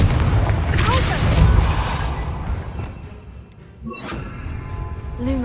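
A Confringo blasting spell fired in Hogwarts Legacy, a loud booming explosion with crackling debris and a second softer blast later, set against dense game ambience and music.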